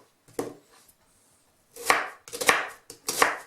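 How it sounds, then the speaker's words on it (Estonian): A knife chops an onion on a cutting board in a home kitchen, a sparse pattern of close, crisp thuds, one isolated cut followed by a pause and then three louder strikes, with no talking. "kõigepealt hakkame siis tükeldama sibulat"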